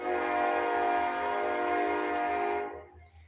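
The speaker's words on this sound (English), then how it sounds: "When the train passes through, they have to hit the horn at least 3 times." Passing train blasting its horn in one long, sustained chord that holds for over two seconds, then cuts off, with a rhythmic low rumble of wheels beneath it.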